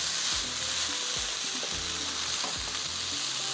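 Honey beef noodles stir-fried with green onion and bell pepper over a very high flame: steady loud sizzling and crackling hiss, with repeated scraping, tossing strokes of the utensil in the pan.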